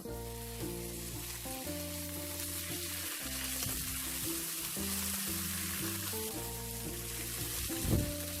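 Broad bean paste sizzles in a wok over low heat, giving a steady close frying hiss with occasional stirring scrapes and a brief knock near the end, without any talk.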